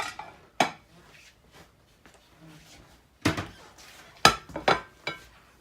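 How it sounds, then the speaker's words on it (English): Ceramic plates clatter and clink in a kitchen, with several sharp knocks as one is grabbed from a stack, scattered amid quieter shuffling. "Grab a plate."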